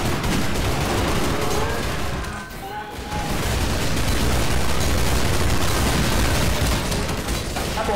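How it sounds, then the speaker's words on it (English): Dense, continuous gunfire with bursts and booms, loud and sustained, with a brief dip midway; voices talk faintly underneath. "That's a lot of gunfire."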